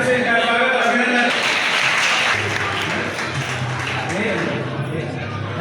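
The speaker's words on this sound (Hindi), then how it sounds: "तालियों के साथ फिर से इनका स्वागत अभिनंदन।" Crowd applause at a Chero tribal community gathering welcoming a guest, a broad steady wash of clapping that runs for several seconds, with a voice speaking over it.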